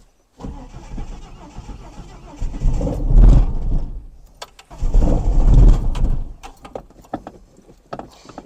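An old Ford XF ex-ambulance, off the road for six years, cranks and fires into two loud surges of rough, lumpy running, each dying back to quieter, uneven idling, close and alone.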